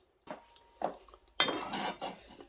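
Clattering of dishes and a utensil scraping and clinking against a bowl in a few short bursts, close by, with no talking.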